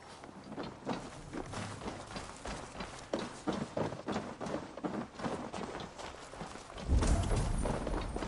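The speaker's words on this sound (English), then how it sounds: "Basim, Eivor, to horse!" A horse galloping in the video game Assassin's Creed Valhalla, its hooves drumming in a fast, steady rhythm up close for several seconds, with a heavier thud and rumble near the end.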